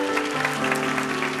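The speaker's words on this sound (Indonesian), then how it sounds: "Ya, kasih tepuk tangan untuk Tuhan Yesus." A church congregation claps in a dense, steady burst of applause, with sustained musical tones from instruments ringing underneath throughout.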